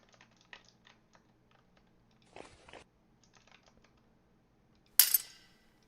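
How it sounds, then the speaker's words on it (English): A computer keyboard clicks in sparse, quiet bursts of keystrokes with pauses between them, followed by one louder clatter near the end, and no one talks. "always like hear me clicking on my keyboard."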